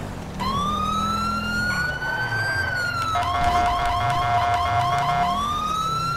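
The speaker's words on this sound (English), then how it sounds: "We're going to shut our siren off." A police car siren in GTA 5, loud and close, moving from a long rising wail into a fast yelping pattern and then back to a wail, over engine rumble with no talking.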